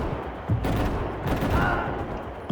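Gunfire from the video game Max Payne 3: a few loud, close shots burst out about a second apart over a dense, rumbling game soundscape.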